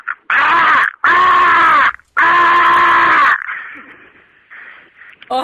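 A man imitates a crow's morning call, given as the birds leave their roost: three loud, harsh drawn-out caws close to the microphone, followed by quieter trailing sounds.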